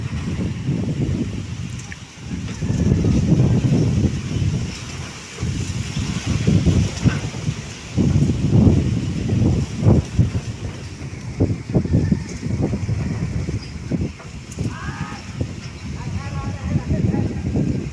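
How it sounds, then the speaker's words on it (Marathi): Strong gusty wind during a thunderstorm, roaring and buffeting the microphone in continuous surges with trees swaying, loud throughout with brief dips, with indistinct voices in the background. "वाऱ्याचा पण आवाज येत असेल."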